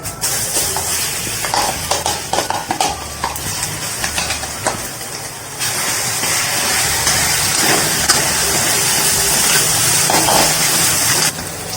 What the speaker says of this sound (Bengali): এই ডাল বাটাটা দিয়ে দিচ্ছি তেলের মধ্যে।